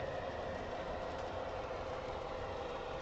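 An MTH model train locomotive runs on a home loft layout, producing a steady, continuous rolling rumble with a faint clickety-clack that holds even throughout, with no talking.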